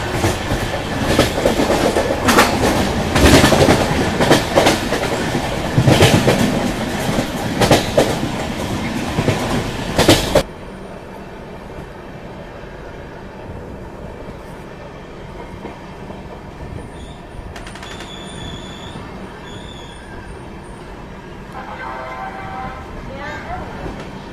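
An Indian Railways passenger train crosses a bridge about 3000 metres long between Assam and West Bengal, a loud, dense rumble and clatter of wheels that drops abruptly to a quieter, steady running hum with faint tonal squeals.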